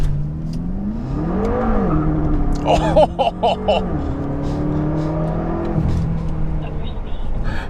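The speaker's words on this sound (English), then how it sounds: "Launch control in this car is a hell of a lot of fun." BMW F10 M5 performance sedan launching hard with launch control, engine note climbing steadily through the gears with a brief wheel-spin chirp, loud and close, a person briefly exclaiming over it.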